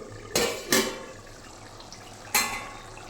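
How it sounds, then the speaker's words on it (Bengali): A metal plate used as a lid is lifted off a pan of cooking small fish, giving two sharp clinks close together, a pause over quiet sizzling, then a third clink. "দেখো থালা দিয়ে আমি ঢেকে দিয়েছিলাম এখনো উঠাবো"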